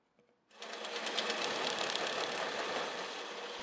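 A homemade bandsaw oiler fitted to a bandsaw starts up abruptly and runs with a steady, close, buzzing mechanical whir that holds level for several seconds.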